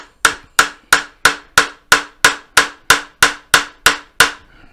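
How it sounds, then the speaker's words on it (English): A hammer strikes a set punch to tighten a fitting on a Solax Transformer, giving thirteen sharp metallic taps at an even, quick rhythm. Each tap rings briefly, close and loud, with no voices. "get a set punch, just tighten it up with that."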